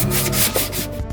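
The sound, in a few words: sanding primed foam armor with sandpaper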